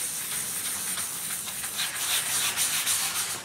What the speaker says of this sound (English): So I'm going to take this 600, do the same thing I did with the 400, just go in circles and just sand over the whole thing